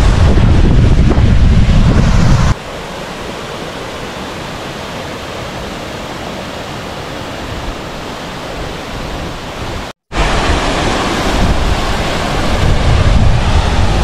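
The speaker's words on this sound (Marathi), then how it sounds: "वारं सुटलंय खूप जास्त." Strong wind roars continuously into the microphone with heavy low rumble beside a temple near water at Kaldari, near Pune, easing slightly for a stretch, a brief dropout, then gusting hard again.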